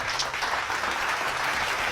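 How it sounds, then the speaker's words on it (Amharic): A studio audience at a quiz game show claps steadily through its fifth round, a dense, continuous patter of many hands at an even level from start to finish, with no voices on top. "በ5ኛው ዙር አጨብጭቡ ለራሳችሁ"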